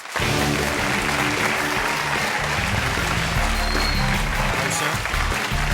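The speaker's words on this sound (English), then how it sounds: "round of applause for our first mystery guest." A studio audience at a comedy quiz show applauds a mystery guest's entrance, starting abruptly and holding as a dense, steady clapping roar with music playing underneath.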